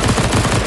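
Rapid automatic gunfire from the video game CS:GO in zombie escape mode, a loud dense burst of shots firing without a break.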